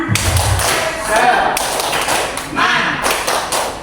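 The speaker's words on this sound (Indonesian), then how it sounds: "Tepuk semangat." A group in a training session performs a rhythmic spirit clap, a quick patterned series of hand taps and thumps, close and fairly loud, with voices calling along over the claps.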